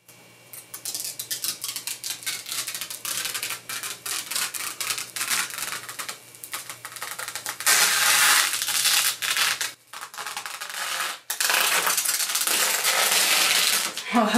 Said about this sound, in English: let's peel off the tempered glass